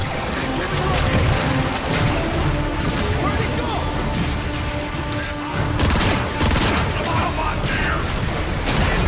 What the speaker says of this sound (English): Parece como un rifle de asalto.